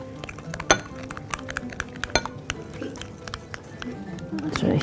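Chicken and vegetables are stirred in a pan with a utensil, making repeated close clinks and scrapes of metal against the pan while someone talks.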